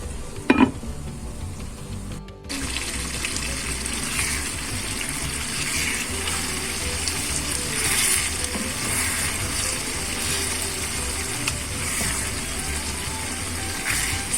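Onions fry in a pan with tomato paste as filling for içli köfte, giving a steady, close sizzle throughout, with a couple of sharp clinks near the start and no talking.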